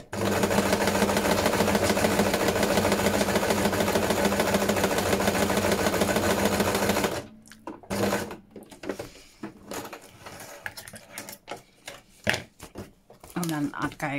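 A sewing machine stitches vellum envelopes in a fast, even, mechanical whir that runs for about seven seconds and then stops. Scattered handling noises and brief sounds follow.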